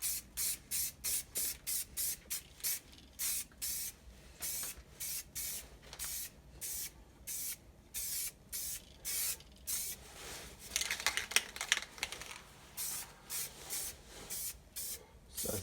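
Paint is sprayed in thin coats onto an air cleaner lid for a 1992 GMC truck, a series of short, sharp hissing spray bursts in a steady rhythm, close and clear, with no voices.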